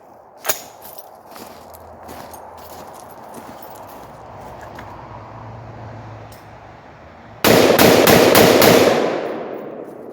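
A Palmetto 10.5 inch AR-15 fires WM193 ammunition outdoors on a cloudy day, with a lone sharp crack early on, then a fast, loud burst of several closely spaced shots near the end.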